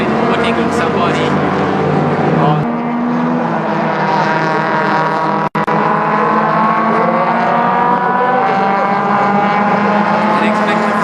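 Race cars roar past one after another during the Sepang 1000km endurance race at the Sepang circuit in the evening, engines loud and sustained with shifting pitch as they overtake, commentary-like voices audible underneath.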